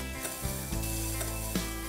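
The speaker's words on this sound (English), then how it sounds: "Just cook the onions for a couple of minutes" Finely chopped onions with ginger paste cook in a pan, giving a soft, steady sizzle with light stirring scrapes at intervals and no voices.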